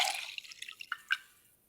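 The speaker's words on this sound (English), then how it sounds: "All I'm gonna do is put it into a beaker and add some vinegar." Vinegar is poured into a beaker holding an egg. A short splash gives way to a few quiet drips and trickling drops over under two seconds. The sound is close and soft, with no talking.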